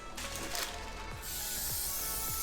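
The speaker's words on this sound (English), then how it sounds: "So what I'm going to go ahead and do is spray" A spray bottle is used in a kitchen while roasting lamb with spring vegetables, giving a continuous breathy hiss that starts partway through and holds to the end after a quieter start.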